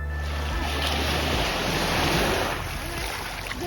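Ocean surf rolling onto a wide sandy beach in Zeeland, Netherlands, a steady broad wash of breaking waves with wind rumbling across the microphone, continuous and fairly loud with no voices.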